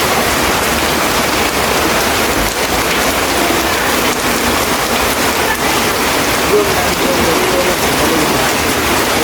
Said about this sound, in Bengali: আবার বৃষ্টিও নামতেছে প্রচুর পরিমাণে বৃষ্টি